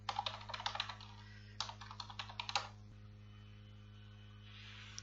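Keys clatter on a computer keyboard in two quick bursts while a username and password are entered, then go quiet; a steady electrical mains hum runs underneath throughout.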